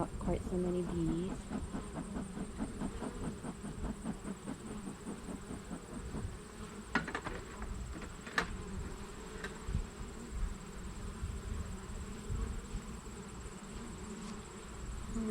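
Honey bees buzz around an opened hive frame during a post-treatment check, a dense continuous drone close by, with faint rustles and a few sharp clicks, low overall.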